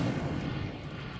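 A fire spell cast in the Hogwarts Legacy video game, a dense whooshing roar that starts strong and holds steady through a brief burst, loud and alone.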